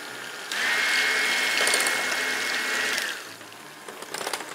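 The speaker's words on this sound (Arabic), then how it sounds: "وهنضربهم كده يا جماعه بالمضرب" A beater whips whipped cream and water in a steady, loud mechanical whir lasting about three seconds, then drops off to quieter kitchen clatter.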